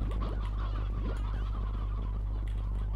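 Cartoonish chickens cluck and squawk in the video game Slime Rancher, several short rising calls over a constant low electronic hum, moderately close with no talking.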